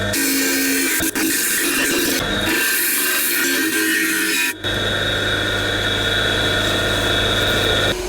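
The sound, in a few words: sander running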